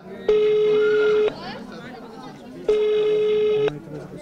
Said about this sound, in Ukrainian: Телефонували на гарячу лінію підприємства.